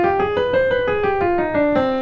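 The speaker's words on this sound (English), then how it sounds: "So the harmonic minor scale sounds like this." A harmonic minor scale played note by note on a melodic instrument, each tone struck in a steady, even rhythm, clear and close with no voices.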